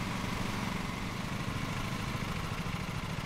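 A lawn tractor mower engine in Lawn Mowing Simulator runs at a steady, low, buzzing drone, close and fairly quiet, with no clear rise in revs and no voices over it.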